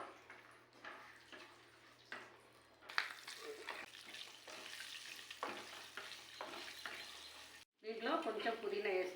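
Whole spices such as cinnamon, cloves and black cardamom frying in oil for fish biryani masala, a soft sizzle broken by scraping stirs and clinks, with a brief pause near the end.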